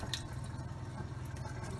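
Water poured over sticky rice inside a rice cooker pot, a quiet steady trickle and drip with faint splashes, close by and alone without talk.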